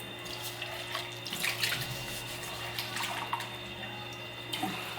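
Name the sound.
water being poured into a cup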